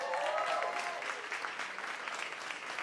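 Audience applause filling a small cabaret venue, Joe's Pub in New York, at a community theater performance; dense, steady clapping throughout with a few faint voices mixed in.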